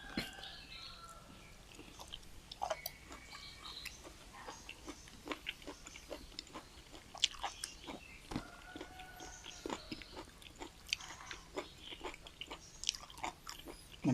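Tough meat is chewed and bitten up close, giving a quiet series of irregular wet crunches and clicks with a faint murmur of voices in the background.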